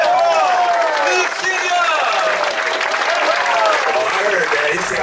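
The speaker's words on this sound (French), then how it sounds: "on peut l'applaudir très fort" A crowd honouring a longtime local singer applauds loudly and continuously, with cheering voices and calls rising above the dense clapping throughout.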